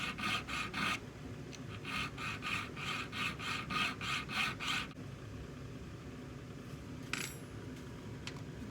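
A file rasps across sterling silver at a notch for a peace-sign centerpiece in quick, rhythmic back-and-forth strokes, then goes quieter, with a single light metallic clink toward the end.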